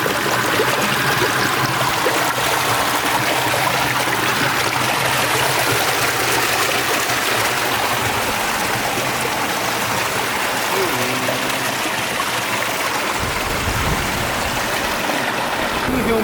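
Water gushes steadily at the head of a river in Haiti, a loud continuous rushing flow that fills the whole stretch, with faint voices underneath.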